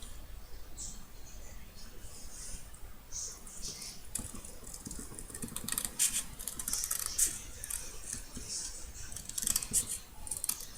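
Paper being snipped for a bindingless album, a run of soft, quick scissor cuts with crisp bursts that come close together, heard up close and at fairly low volume over a faint background hiss.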